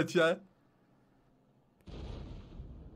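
Tank gun fire in World of Tanks: after a brief voice at the start and a near-silent gap, a single sudden, loud cannon blast hits and trails into a sustained rumbling roar.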